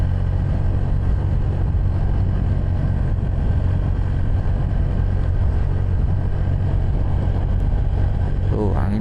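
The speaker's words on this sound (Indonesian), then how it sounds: "Wah, anginnya lumayan ya, beleduk tuh teman-teman ya, anginnya itu." Strong wind on the road to Bromo, a loud constant low rumbling roar buffeting the microphone for the whole stretch, with no breaks.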